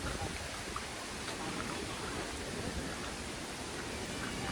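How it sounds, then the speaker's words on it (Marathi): Light rain at Lavasa falls onto a camera, giving a dense, even hiss with faint scattered drop taps throughout and no talking. "थोडासा पाऊस असल्यामुळे आमच्या कॅमेऱ्यावरती पाणी पडतंय"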